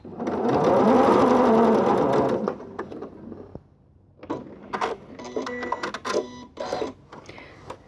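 A sewing machine runs a continuous burst of stitching on a reversible quilt-as-you-go border, loud and close for about two seconds, followed by quieter clicks and rattles of fabric handling and machine adjustments.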